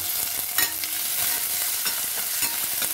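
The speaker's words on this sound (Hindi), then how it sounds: "तो हम थोड़ी देर भून लेंगे अब इसमें हम डाल देते हैं प्याज" Thinly sliced onions go into hot oil with ginger for a dhaba-style arhar dal fry, making a loud continuous sizzle broken by a few sharp stirring scrapes, close and alone.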